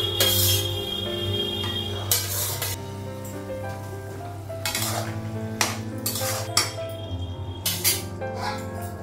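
A lid clinks onto a frying pan of eggs in a home kitchen, with metallic clatter and soft sizzling under a steady background hum and no talking.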